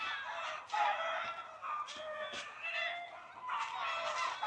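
Chickens, with at least one rooster, cluck and squawk loudly outdoors in an agitated, continuous chorus that rises and falls over several seconds, with no talking.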